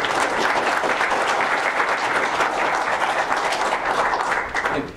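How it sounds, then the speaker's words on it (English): Applause from the audience at an IoT meetup in Charlotte, welcoming a guest speaker; a loud, dense, sustained burst of many hands clapping that holds steady and then tapers off at the end, with no speech. "I want everyone to give him a big round of applause"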